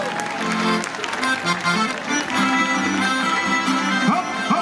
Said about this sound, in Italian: Fate un applauso per Andrea Nostro, per favore